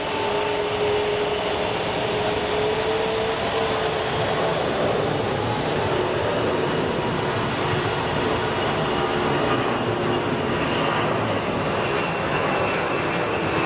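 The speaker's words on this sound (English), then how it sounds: "Very, very steep takeoff by the 767." At Phoenix Sky Harbor International Airport, a Boeing 767 jet roars through a steep takeoff. The engine noise is broad and loud and holds steady without a pause.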